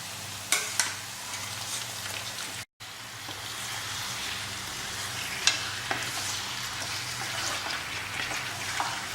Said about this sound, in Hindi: मीट मिला देते हैं